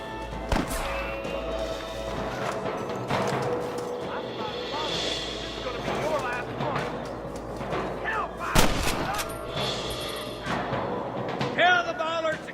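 Gunshots ring out in a Red Dead Redemption Western shootout, with repeated loud cracks and booming reports scattered throughout, mixed with game dialogue and music.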